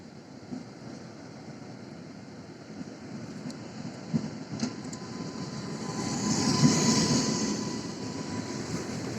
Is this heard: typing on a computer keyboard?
no